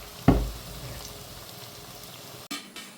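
Ethakkappam (banana fritters) in the last batch bubbling in hot oil, a soft steady sizzle after a brief louder burst near the start, with a short clatter of a utensil toward the end; no talk.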